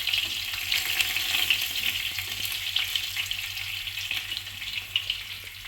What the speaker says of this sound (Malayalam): ഇനിയിപ്പം ആ നെയ്ക്കകത്തോട്ട് നമുക്ക് തേങ്ങാക്കൊത്ത് വറുക്കാനുണ്ട്